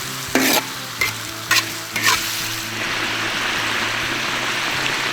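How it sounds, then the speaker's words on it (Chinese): Duck hits a hot wok with ginger, scallion and garlic, a few sharp scraping stirs followed by a loud continuous close sizzle, no talking. "姜葱蒜下锅"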